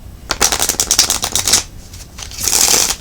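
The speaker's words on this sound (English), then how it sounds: "2 more shuffles and we'll get right into your reading" Tarot cards are riffled and shuffled up close, a loud rapid flutter of cards for about a second and a half, a brief pause, then a second shorter shuffle.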